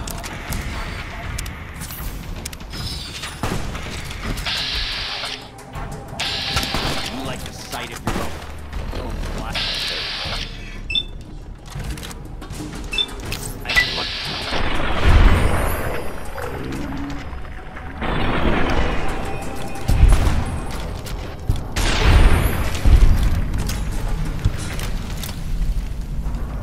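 Grenades explode during a firefight in the video game Fallout: New Vegas, making several booming blasts amid gunfire and rumbling game sounds, while a player talks over the action.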